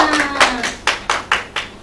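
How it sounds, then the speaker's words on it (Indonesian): Classroom applause for a pupil's correct answer during an elementary school lesson: a handful of sharp, distinct claps in an irregular rhythm, close by and fairly loud, from a small group. "Tepuk tangan buat Mbak Ida sudah membenarkan jawabannya"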